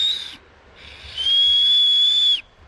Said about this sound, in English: Mouth on my knuckles and blow.